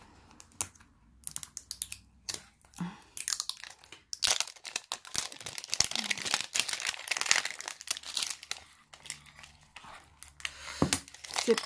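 Foil Pokémon booster pack wrappers crinkle and tear up close in irregular bursts of crackling, with quiet pauses between pulls.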